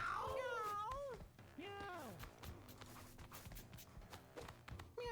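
Several cats in the video game Mewgenics meow one after another, with rising and falling cries near the start and around two seconds, followed by light tapping footstep sounds and fainter mews, all fairly quiet.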